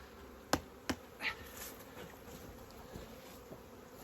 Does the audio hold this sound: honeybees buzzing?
yes